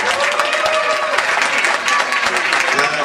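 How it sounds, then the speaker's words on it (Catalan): Audience applause at an orchestra concert in a civic centre hall in Premià de Mar, a dense, steady wash of many hands clapping for about three seconds, loud and continuous with crowd murmur mixed in. "Un aplaudiment especial."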